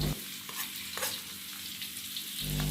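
Lemongrass sizzles steadily in hot oil in a pan while it is sautéed before beef goes in, a constant close frying hiss with light stirring and no voices.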